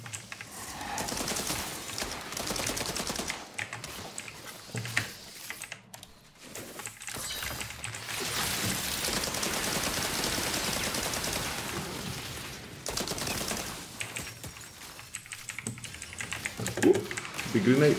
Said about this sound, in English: Big grenade, mortar fire actually.